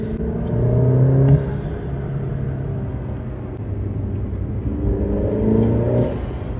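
An Alfa Romeo Giulia 2.0T with its stock intake revs twice, each rise a loud, close, smooth rising engine note that settles back to idle between blips.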